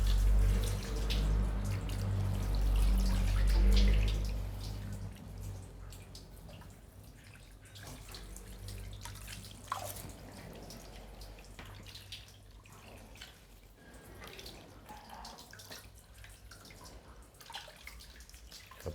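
Pig intestines rinsed under running water, a steady splash and trickle of tap water with scattered drips and wet handling noises. A low rumble at the start fades, leaving softer, close washing sounds.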